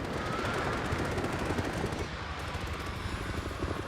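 Aircraft air support firing in the House of Ashes video game: sustained, dense automatic gunfire with rapid bursts running continuously, loud and close, with a slight dip midway before the fire picks up again.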